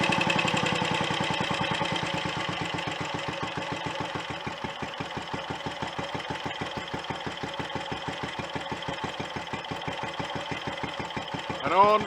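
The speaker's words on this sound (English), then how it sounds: "When I screw the mixture screw in, it'll stop it racing like that." Royal Enfield Olympic 250 motorcycle engine racing at a fast idle with a rapid, steady, even firing rhythm that slows slightly over time, close and loud, with no talk.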